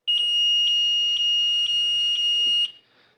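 A shrill electronic fire alarm sounder under test in a high school sounds continuously with faint regular pulses for a couple of seconds, loud and close, then cuts off abruptly.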